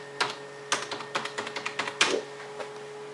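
Someone types a password on a computer keyboard: about a dozen crisp, close key clicks in an uneven rhythm, with short pauses between the groups.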